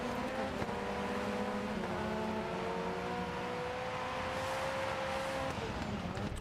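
A race car engine in DIRT 4 holds a steady buzzing drone at the start, its pitch rising and falling slightly as it idles and revs, continuous and close with no talk over it.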